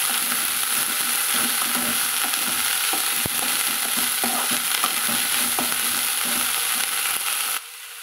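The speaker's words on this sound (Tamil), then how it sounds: "முருங்கைப்பூ சேர்த்தி நல்லா கலந்து விட்டுருக்காங்க." Drumstick (moringa) flowers being stir-fried in a hot pan: a steady, close sizzle with light stirring scrapes throughout, ending abruptly just before the close.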